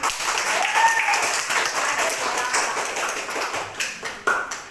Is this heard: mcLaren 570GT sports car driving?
no